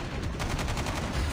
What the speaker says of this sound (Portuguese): Eu dei dois tiros e ele morreu.